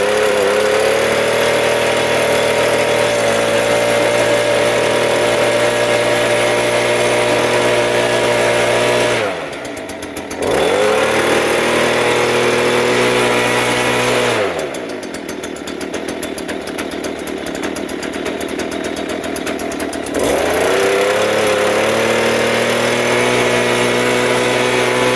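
A repaired leaf blower engine runs loud and close, buzzing continuously with two short drops in pitch where the throttle eases off before it revs back up.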